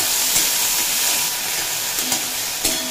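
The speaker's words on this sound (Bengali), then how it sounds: "চিংড়ি মাছ ভাজতে খুব একটা সময় লাগে না, অল্প নাড়াচাড়া করে নিলেই হয়ে যায়।" Shrimp frying in oil in a pan while being stirred, a steady close sizzle with a few sharp clinks of the utensil against the pan and no talking.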